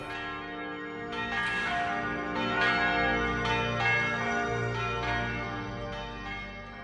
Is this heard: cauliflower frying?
no